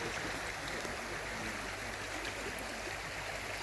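A river in the Daintree Rainforest of Queensland, Australia, flowing with a steady, broad rushing wash of water, constant in level and close by, with no voices.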